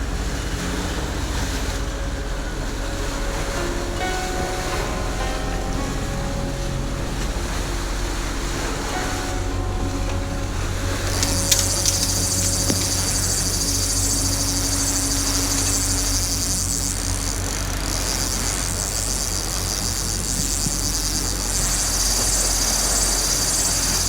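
A fishing boat's engine drones low and steady beneath broad wind and wash of waves on calm seas, the rumble continuous throughout with a brighter hissing layer joining partway through.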